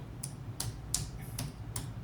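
Keys tap on a computer keyboard in five or six crisp, separate clicks spaced roughly a third of a second apart, close but quiet against low room hum.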